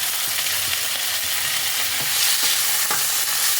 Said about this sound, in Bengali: এবার আমি এর মধ্যে দিয়ে দিচ্ছি টমেটো আর কাঁচা লঙ্কা কুচি